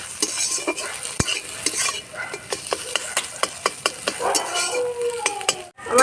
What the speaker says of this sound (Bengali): ডিমগুলো ভালো করে ভেজে ঝুড়ি করে নামাতে হবে